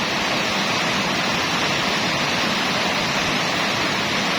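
Heavy rain pours down in Cavite, Philippines, in a steady, dense roar, constant and loud throughout with no voices.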